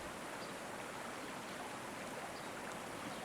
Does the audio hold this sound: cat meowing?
no